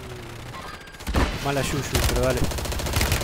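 Gunfire in the Warzone video game crackles in rapid bursts under excited talk, close and loud, with automatic fire overlapping the players' voices throughout.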